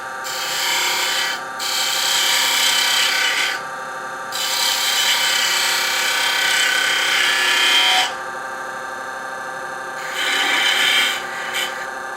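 A woodturning gouge cuts a spinning wooden bell ornament on a lathe, making a steady rasping hiss in three long bursts separated by short pauses, close and fairly loud.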